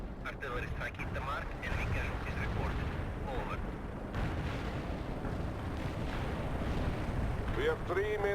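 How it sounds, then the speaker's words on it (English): Artillery barrage in the Soviet Assault campaign of World in Conflict: continuous heavy rumbling booms and blasts rolling under a voice speaking throughout, fairly loud and dense. "Initiate some artillery. Let's get rid of them."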